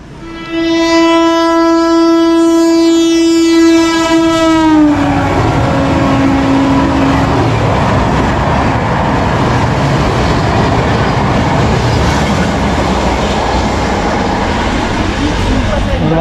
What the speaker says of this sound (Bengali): আমাদের ট্রেন কিন্তু এখন এসে পৌঁছালো দাঁতন স্টেশনে